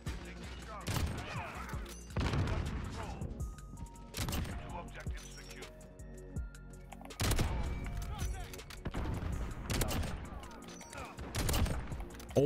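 Rapid bursts of gunfire from sniper rifles in the video game Modern Warfare, repeated loud sharp shots in clusters, with players talking and reacting over the action.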